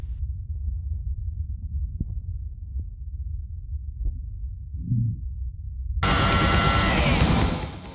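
A heartbeat picked up from inside the body by a contact microphone gives a muffled low-frequency throb with a few soft thumps. It ends in a sudden loud, broadband rush of noise.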